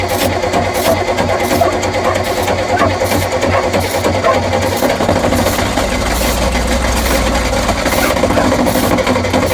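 An engine on a farm, treated with sprayed ether to get it going, runs with a loud, steady, rattling drone up close, its low rumble shifting partway through, with no speech.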